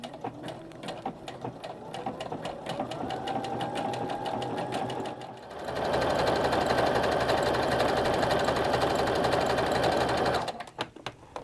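Sewing machine stitching fabric for a simple skirt, a rapid mechanical whir that runs steadily, then grows louder and faster for several seconds before stopping abruptly, heard close with no talk.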